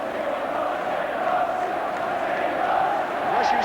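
Large football crowd at Goodison Park during the 1982 Everton v Liverpool derby, a continuous loud roar of massed voices that swells slightly toward the end, steady and dense throughout.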